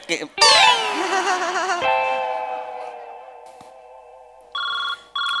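A loud electronic ringtone trills and warbles, then settles into a sustained tone, followed by short repeated beeping bursts near the end.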